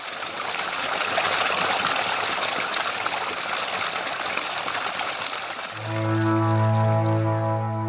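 Water splashes and flows steadily at a village fountain in Cuglieri, close and constant, until a sustained droning tone rises over it near the end.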